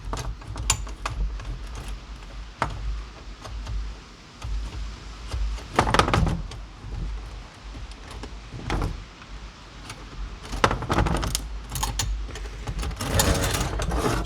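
Vice grips work loose the pan bolt on a coyote trap, giving close metallic clicks, scrapes and creaks in irregular bursts, with a few sharper rattles toward the end and no talking.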